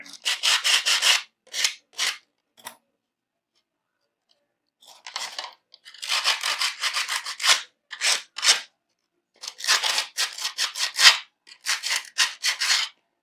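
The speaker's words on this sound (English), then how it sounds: "I'm just sanding up the edge a little bit just to make sure that we have a nice, clean edge." Short bursts of rough sanding scrape back and forth in quick strokes along the edge of an armour hand plate, with brief pauses between groups of strokes, close and fairly clear.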